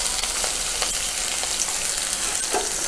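Steady sizzling of chopped capsicum frying in hot oil, with occasional stirring scrapes, close and continuous with no talking.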